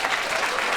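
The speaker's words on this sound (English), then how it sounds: "give them a round of applause for heaven's sake" A school choir concert audience claps in a dense, steady wash of applause, filling the hall evenly for a brief moment.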